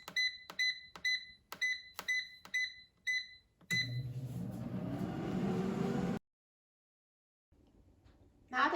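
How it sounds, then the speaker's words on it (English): An air fryer cooking a frozen soft pretzel at 360 degrees Fahrenheit: a string of about eight rhythmic control-panel beeps, then a steady, close whirring fan roar for a few seconds before it cuts to near silence. "let's put the basket in the air fryer, and I'm going to set the temperature to 360 degrees Fahrenheit"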